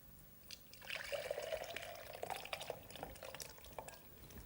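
Thick smoked haddock chowder pours and splashes steadily into a blender for a few seconds, with trickling and dripping sounds throughout.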